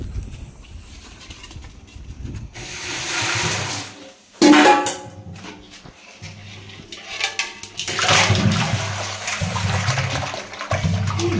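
Desi magur catfish, dark from a weed-choked pond and brought in a bag, splash and thrash as they are tipped into water, with loud watery sloshing and gurgling that swells in bursts and carries on throughout.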